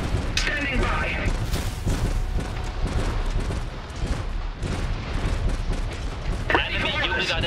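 Artillery and gunfire rumble through an Iron Harvest multiplayer battle, a dense, continuous wash of booms and blasts with sharper bursts near the start and end, mixed with in-game voices.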